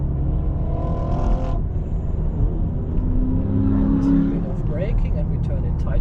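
A VW Golf 7.5 GTI pulls hard out of a corner on a Nürburgring Nordschleife tourist lap, its engine note droning and rising steadily under wind and road rumble, loud and close from inside the car.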